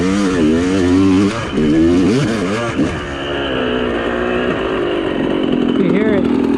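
Motorcycle engine with an exhaust leak idling and revving after a muddy ride, its spitting, popping exhaust heard close and loud under someone talking.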